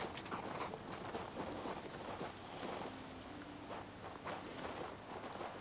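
Horse hooves clop in a steady walking rhythm in the fantasy video game King's Bounty II, faint and continuous over a soft outdoor ambience.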